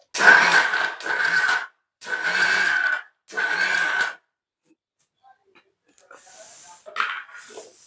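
A kitchen mixer grinds ridge gourd chutney in four loud, close bursts separated by brief pauses, followed by quiet handling noises and a short spoken remark.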